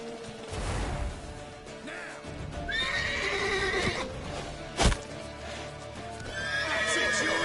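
A horse in The Witcher 3 video game gives two loud whinnies over clip-clopping hooves, with a sharp thud partway through and a rough, busy background.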